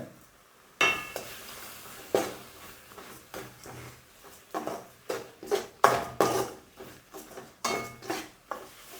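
Masala powder and tomato being stirred and sautéed in a pan for okra kara kuzhambu, with repeated close metallic scrapes and clinks of a spoon against the pan in an irregular rhythm over a soft sizzle.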